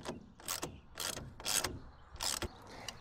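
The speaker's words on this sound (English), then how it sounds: "retighten the bolts." A ratchet wrench retightens the bolts on a TruXedo Deuce pickup truck bed cover header, giving five or six sharp clicking bursts in an uneven rhythm, close and fairly loud with no talking.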